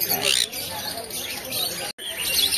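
Baby pineapple conure parrots call at a pet market, bursts of shrill chirps close by mixed with voices talking.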